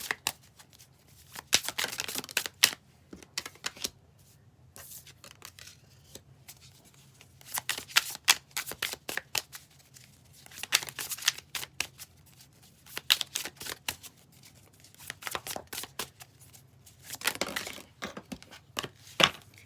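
Playing cards being shuffled in repeated bursts of crisp riffling and slapping, with short pauses between rounds, close and fairly loud with no talking.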